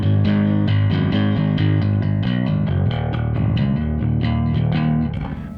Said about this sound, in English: A little bit of phase inverter distortion sounds good, but too much is just sludgy like that.